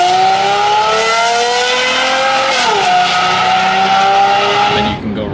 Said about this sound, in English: So when I hit sport down We get here, F1 noises. it initiates the cutout and you can hear it.